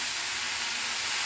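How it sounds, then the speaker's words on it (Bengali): Chopped banana stem (thor) fries in a pan, making a steady, dense sizzling hiss that stays even and close throughout with no pauses. "আর এটা ভাজতে হবে, চাপা দিয়ে দিয়ে ভাজতে হবে।"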